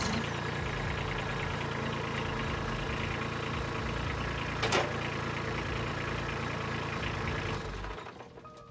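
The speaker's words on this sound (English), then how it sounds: "So let me fire up this tractor and show you how that works." A tractor engine idles steadily with a low, even rumble, fairly close and unbroken, then cuts off near the end; no one speaks.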